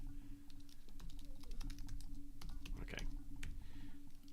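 A cat walking across a computer keyboard, producing a scattered run of quick key clicks and presses over a low electrical hum, with faint voice sounds beneath.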